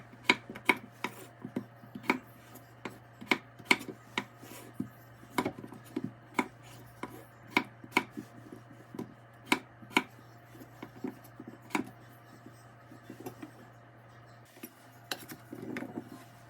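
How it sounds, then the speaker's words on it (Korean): A knife dices two potatoes on a cutting board, giving a steady run of sharp, close chopping knocks at an irregular pace that continues throughout with no talking. "감자 2개 깍둑 썰기로 썰어주세요."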